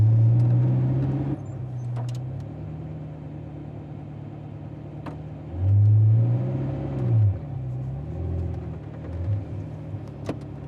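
A Zenvo TSR-S supercar drives slowly and turns around, its engine a low idling rumble with a couple of brief revs rising and falling, heard from inside the car.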